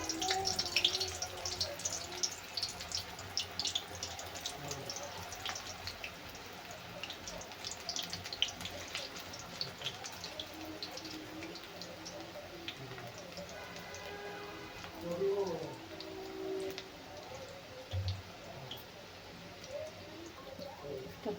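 Spinach pakoras frying in hot oil in a home kitchen, a continuous soft bubbling sizzle with scattered crackles and occasional louder spits, close and steady from start to finish.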